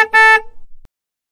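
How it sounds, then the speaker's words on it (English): Car horn during a driving test, one short loud honk lasting under half a second, followed by a few faint low knocks and then silence. "Honk the horn."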